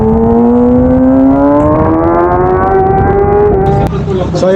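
A Kawasaki motorcycle pulls away in first gear, its engine note loud and close, rising steadily in pitch as it revs, then dipping briefly near the end.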